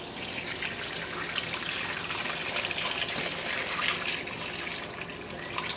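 Cooking liquid with parsley and celery is drained from a pot of pig feet, making a steady, continuous pouring trickle close by with no talking.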